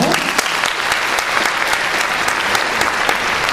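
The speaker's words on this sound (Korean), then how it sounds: "큰 박수 한번 주시기 바랄게요" An audience at a public-agency mock job interview session at a recruitment fair gives a big round of applause to welcome an interviewer: dense, loud, sustained clapping filling the whole stretch with scattered sharper claps.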